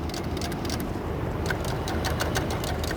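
A sewing machine runs steadily, stitching boat cushion fabric in a close, continuous mechanical whir with a rapid needle rhythm. It stays loud and unbroken for three seconds, with no talk.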